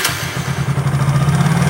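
Motorcycle engine catching and settling into a steady, throbbing idle up close during carburettor tuning, a loud low pulsing hum with a brief burst at the start.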